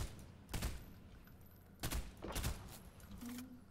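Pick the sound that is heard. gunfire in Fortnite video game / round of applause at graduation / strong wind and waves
gunfire in Fortnite video game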